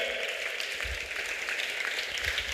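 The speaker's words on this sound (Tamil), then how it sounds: "நல்லா கைத்தட்டுங்க, நல்லா கைத்தட்டுங்க, நல்லா கைத்தட்டுங்க." A church congregation claps their hands together in a sustained, busy patter of overlapping claps at moderate volume, with no voices over it.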